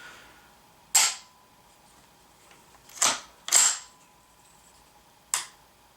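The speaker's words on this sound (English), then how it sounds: "you can hear the click when I release the tension off of the trigger" Ruger 10/22 rifle fitted with a C and A Tactical Designs drop-in trigger gives four sharp, crisp reset clicks at uneven intervals, close up and isolated against a quiet background.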